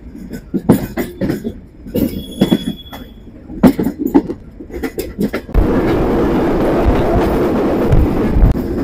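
The Intercity Chitra Express pulls out of Ishwardi Junction at night with loud, uneven clanks and knocks from the cars, giving way to a steady roar of wheels on rails.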